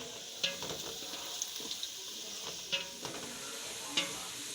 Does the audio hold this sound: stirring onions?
yes